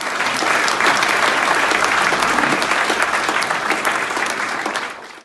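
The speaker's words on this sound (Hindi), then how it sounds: "सिटन काउंसिल के काउंसलर्स ने उन्हें 2020 से 2019 के लिए बिला मुकाबला मेयर मुंतखिब किया तो हॉल तालियों से गूंज उठा।" Applause fills a council hall after councillors elect a mayor unopposed: dense, sustained clapping from a large crowd, steady and loud for about five seconds before cutting off abruptly.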